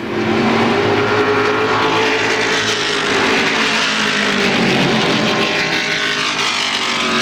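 Race cars roar down a speedway straightaway, including the 51 car, as a loud, continuous engine drone shifts in pitch as the pack sweeps past at close range.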